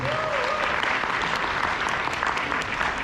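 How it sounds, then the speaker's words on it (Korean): Seminar audience at a resort applauding, a dense, even wash of clapping from many hands that holds steady and fairly loud for the whole stretch. "다시 한번 박수 주십시오."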